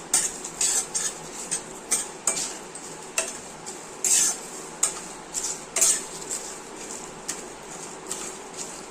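Paneer masala spice mix is stirred and dry-roasted in a metal pan: a spatula scrapes and clinks against the pan in an irregular rhythm of sharp, close knocks over a light sizzle.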